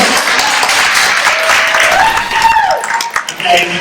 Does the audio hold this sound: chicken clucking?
no